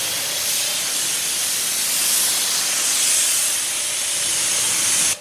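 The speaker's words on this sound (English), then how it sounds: "My foam cannon going." A foam cannon sprays thick foam over a vehicle during a car wash, making a loud, continuous airy hiss that holds steady for several seconds and then cuts off abruptly.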